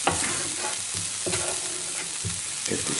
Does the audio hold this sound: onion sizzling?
yes